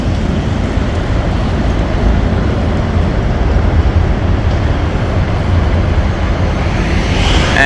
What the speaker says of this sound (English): Tokyo monorail, that's the monorail.